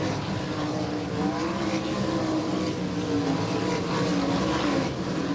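Sprint race cars racing in a single-file pack on the I-96 Speedway oval, engines blaring loud and continuous with a steady, droning roar and no voices.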